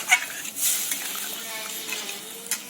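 Warm water poured into a pan of frying fish kofta curry made with bhetki, giving a soft sizzle and watery hiss with a few faint clinks, close and fairly quiet with no talking.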